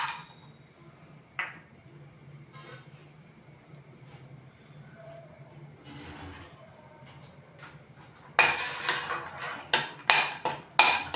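Cashew nuts are fried in ghee in a pan: near silence with faint clinks, then a burst of sharp metal spoon knocks and scrapes against the pan, loud and close toward the end.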